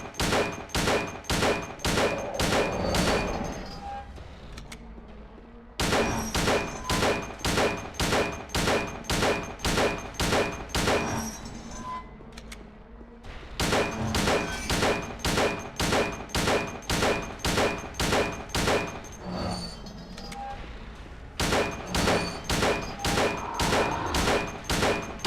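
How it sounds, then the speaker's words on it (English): Pistol fire in Silent Hill 2 comes as long runs of evenly spaced, loud, close shots in rapid rhythm, split by a few short pauses over about twenty-five seconds, with no talk over them. "I swear I pulled out the pistol."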